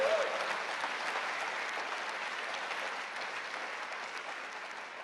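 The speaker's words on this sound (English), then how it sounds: "A little ripple of applause, please" Applause for the ministerial team in the hall at the Labour Party conference in Liverpool, a steady wash of distant crowd clapping, fairly faint and even throughout.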